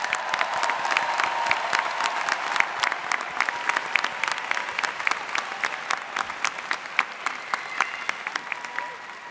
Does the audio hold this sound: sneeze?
no